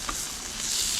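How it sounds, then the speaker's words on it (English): Salmon sears skin side down in a hot pan, giving a brief, steady crackling sizzle close by. "once you sear the skin side"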